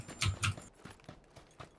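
Footsteps crossing a field outdoors: two heavy, close thuds in quick succession, then several softer, lighter steps trailing off at an uneven pace.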